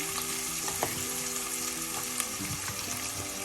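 Crushed ginger and garlic frying in a pan for a Kollam-style mackerel pepper dish, a dense steady sizzle close by with occasional light clicks of a spoon stirring; no talking.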